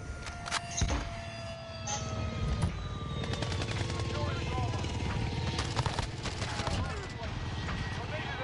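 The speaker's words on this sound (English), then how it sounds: "Oh, the helicopter's getting me." A helicopter circles overhead in a shooter video game, its steady rotor drone running throughout beneath dense gunfire, explosions and game effects, with a voice talking over it.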